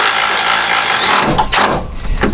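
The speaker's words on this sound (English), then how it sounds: "I'm going to go ahead and remove them from the core support." Bolts being removed from the core support bracket on a 1995 Ford F250 during front-end teardown, with a loud sustained tool whir that cuts off midway, followed by metallic clanks and rattles up close.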